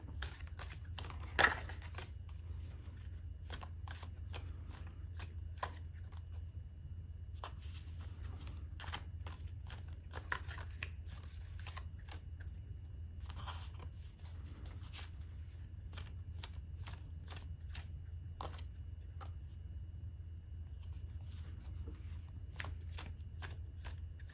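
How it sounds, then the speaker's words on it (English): Tarot cards shuffled and handled repeatedly to draw an advice card, a run of quick papery riffles and flicks close by over a steady low hum, with no talk. "I'm going to pull one more as an advice card for you"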